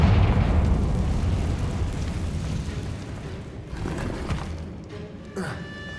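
In the video game Hogwarts Legacy, a Confringo spell explodes with a loud, deep, rumbling blast that slowly fades and is followed by lighter crackles and rustling.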